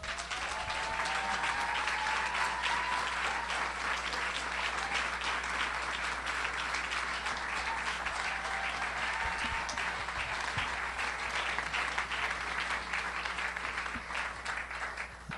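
An audience at an award ceremony claps in sustained applause: a thick, even wash of many hands that holds steady for about fifteen seconds and eases slightly at the very end.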